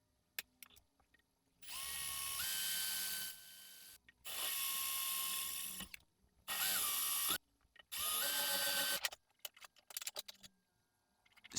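A cordless screwdriver drill starts a thread tap in a camera housing, running in four separate bursts of a couple of seconds each with quiet gaps between them, close and fairly loud.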